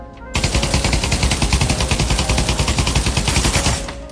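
Rapid automatic fire from a Galil rifle in the VR shooter Pavlov VR, a steady stream of closely spaced loud shots lasting several seconds before cutting off, with no talk over it.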